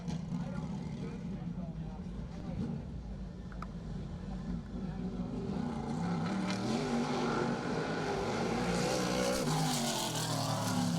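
Race car on an oval raceway during qualifying laps, a steady loud engine drone that builds slightly toward the end, with a commentator speaking over it.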